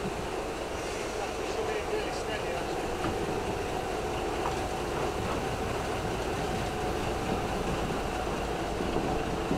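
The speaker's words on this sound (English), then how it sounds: "This classic locomotive is eased carefully from the exhibition shed." Preserved steam-era locomotive 158A, withdrawn in 1947, eased slowly out of an exhibition shed, giving a steady low rumble of rail movement with faint metallic clanks and some indistinct voices in the background.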